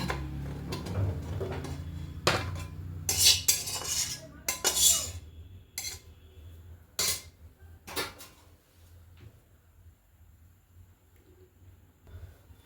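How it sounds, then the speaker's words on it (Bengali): Cooked vegetarian cabbage dish scraped and poured from a kadai into another vessel, with loud metallic clinks and scraping bursts over the first eight seconds, then quieter rustling. "একটা পাত্র নিয়ে নিয়েছি এবার এটাকে ঢেলে দেবো"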